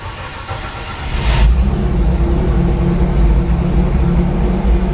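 Engine of a rare U.S. postal Scout left sitting for 50 years cranks and catches around the one-second mark, then settles into a steady, loud, low rumbling idle close by with no talk.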